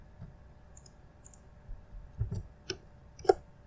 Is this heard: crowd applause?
no